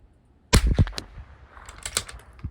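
A single close, sharp rifle shot from a Bergara B14R firing .22 standard ammunition, a crisp crack with brief echoing clicks and rattles after it.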